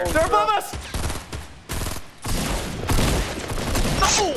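Rapid bursts of gunfire in the video game Fortnite Battle Royale, loud and close, with several volleys firing in quick succession while excited voices shout over the shooting.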